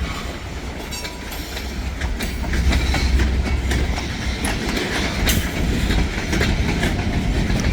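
A freight train rolls along the rails close by with a steady heavy rumble and rhythmic clickety-clack of wheels over the joints, swelling louder partway through and holding strong to the end.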